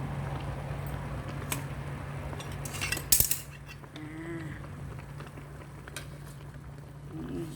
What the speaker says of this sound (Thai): เรามา ตักดื่มกันแล้ว